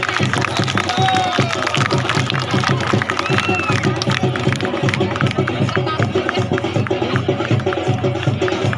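An outdoor crowd at a Shri Krishna Akhada troupe performance in Pasoud, Balod, claps loudly and steadily in a dense patter of many hands, mixed with crowd babble and voices.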